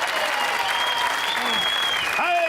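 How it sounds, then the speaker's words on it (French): A studio audience at the French game show Le Bigdil applauds loudly and continuously, with a thick wash of clapping and some voices rising through it near the end. "Allez, continuez à applaudir"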